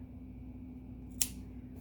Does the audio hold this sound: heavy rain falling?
no